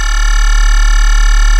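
A bass patch built in the Vital synth, with a compressor's low band raised, holds one steady, loud, buzzy tone with a thick low end for under two seconds and no pauses.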